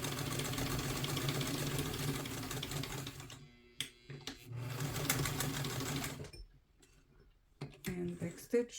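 A sewing machine top-stitches a two-piece collar close to its edge, running in a steady, fast whir for several seconds, pausing, then another run and a stop, followed by a few scattered clicks and handling knocks.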